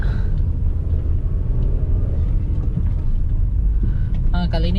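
A 1994 Honda Accord Cielo drives on the road outside Ponorogo, its steady low engine and road rumble droning continuously from inside the cabin, with a brief higher mechanical whine near the end.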